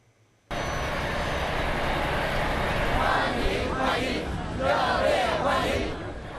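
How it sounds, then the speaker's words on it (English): A plane touches down at Macau International Airport with a loud, steady roar of engine and wind noise that starts abruptly and holds for several seconds, swelling slightly near the end. "President Xi Jinping's plane touched down at the Macau International Airport at about 4 p.m. today."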